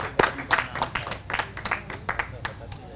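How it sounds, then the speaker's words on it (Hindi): Scattered clapping from the audience at a televised Holi poetry show, a loose ragged patter of hands that stays fairly light and trails off, heard under a host's speech. "एक बार जोरदार तालियां बजाएं"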